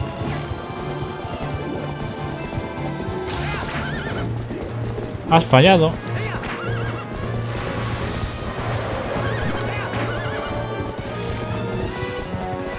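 A horse in the game Zelda Twilight Princess gives a loud, sudden whinny midway, with galloping hoofbeats beneath steady game music and someone talking.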